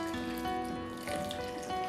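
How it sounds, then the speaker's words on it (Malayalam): Boiled water pours into a container for grinding a paste for a fish curry. It is a brief, faint, steady trickling pour close by, with no talking. "ഞാൻ കുറച്ച് തിളച്ച വെള്ളമാണ് ഒഴിക്കുക"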